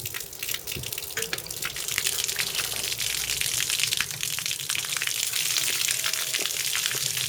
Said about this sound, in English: Right, so we've got the water coming out of the other end now. I'm just going to leave the hose on for a second.